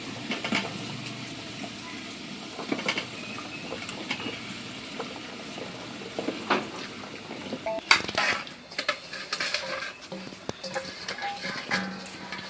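Mixed vegetables tipped into a pot of fried lentils for vegetable khichuri: a series of metallic clatters, scrapes and clinks of utensils against the pot, with a few louder knocks, under light background noise.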